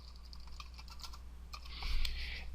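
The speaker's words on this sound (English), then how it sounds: "And once you type in your password," Password being typed on a computer keyboard at a desk during a website setup, a quick run of close, light key clicks that builds into a denser, louder burst near the end, with no talking.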